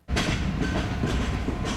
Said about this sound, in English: the 80-tonners train surprised me